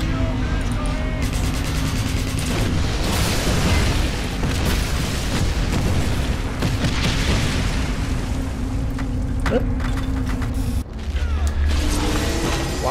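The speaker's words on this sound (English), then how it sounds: "Why is everything exploding everywhere?" Explosions in the Wolfenstein video game build into a dense, loud barrage of booms, bursts and rumbling mechanical noise that runs almost without a break.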